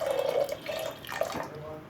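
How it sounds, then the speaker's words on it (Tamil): Water is poured into a pressure cooker while making vegetable soup, a short steady splashing stream that trails off, close and fairly quiet with no talk. "தண்ணி ஊற்றிட்டேன் இல்லைங்களா?"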